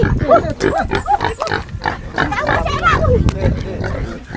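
Pigs grunt at a rural Filipino home, a string of rough, close grunts and snorts mixed with people talking nearby.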